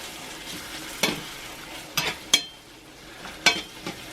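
Baked beans with bacon simmering in a cast iron pan over low heat, a soft steady sizzle with a few sharp scraping stir strokes and clinks scattered through, fairly quiet and with no talking.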